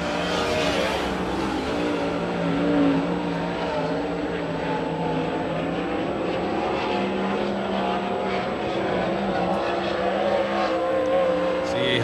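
A 410 sprint car engine roars loud and steady through a qualifying lap at Grays Harbor Raceway, a continuous high-revving drone with no pauses and no talk over it.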